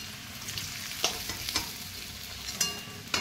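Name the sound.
potatoes frying in hot oil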